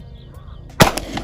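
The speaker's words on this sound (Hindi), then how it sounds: "CF98 से जो तीसरा फायर किया है" A single sharp, loud shot from a CF-98 pistol at an outdoor range, a sudden crack followed by a brief echoing tail against quiet ambience.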